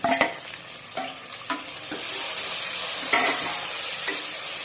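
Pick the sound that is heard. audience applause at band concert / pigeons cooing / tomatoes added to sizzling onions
tomatoes added to sizzling onions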